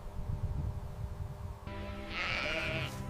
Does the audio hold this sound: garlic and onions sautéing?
no